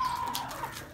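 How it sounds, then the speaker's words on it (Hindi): Aseel desi chickens clucking in a short, steady burst of close, moderately loud calls with no talking. "असील मुर्गा, देसी मुर्गे"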